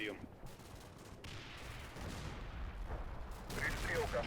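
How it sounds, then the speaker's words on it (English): Mortar rounds and gunfire rumble in the Combat Mission war game, a dense, continuous bed of distant booms and crackling shots that grows slightly louder toward the end, with a voice talking over it. "Mortar rounds there."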